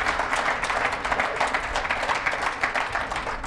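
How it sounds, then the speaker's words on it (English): A live audience at a Lilac City Live music night applauds a singer-songwriter about to play, with dense, steady clapping filling the room loudly from start to finish. "Give her a big round of applause."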